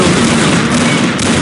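Dense, continuous gunfire from the Ballistic Weapons mod in Unreal Tournament 2004 team deathmatch, a loud sustained barrage of overlapping shots with no pauses across the short stretch.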